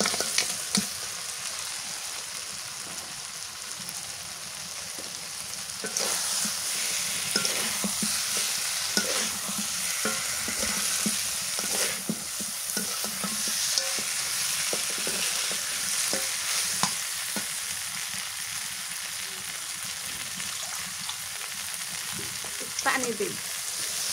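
Fried goat meat tipped into cooked-down spices in a pan over a village kitchen fire and stirred: a continuous loud sizzle with repeated scraping and clinking of the spoon throughout.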